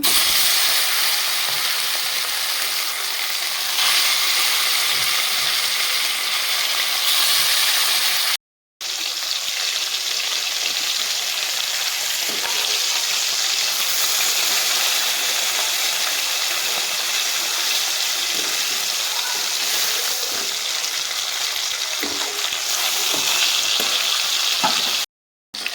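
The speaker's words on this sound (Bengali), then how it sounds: "বাকি মাছগুলো ভেজে নেব" Pieces of chitol fish fry in hot oil with a continuous, fairly loud sizzling crackle that holds steady, broken only by one brief gap, with no voices.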